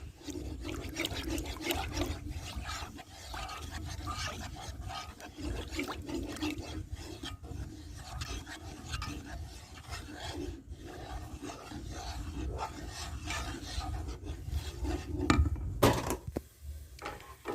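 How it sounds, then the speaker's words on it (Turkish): A spoon keeps stirring a lemon pudding mixture with turmeric and lemon juice in a pot, scraping and rasping in a continuous, close, rhythmic churn with a sharper clank near the end. "yarım çay kaşığı ucuyla zerdeçal ve 2 adet limonun suyu iyice karıştıralım"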